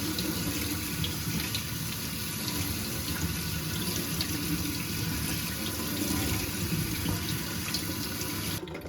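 Steady gush of tap water rinsing a dirty motorcycle air filter from the clean side outward, a continuous close splashing hiss that runs evenly throughout and cuts off abruptly at the end.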